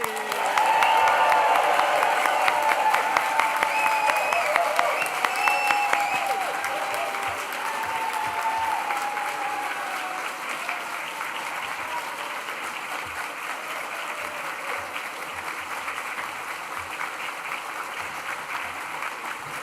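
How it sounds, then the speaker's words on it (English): A graduation audience bursts into sustained applause with cheering, loud and continuous at first, then settling into steady, slightly softer clapping that carries on throughout, with a few voices calling out over it. "let's raise the roof with a huge cheer and round of applause"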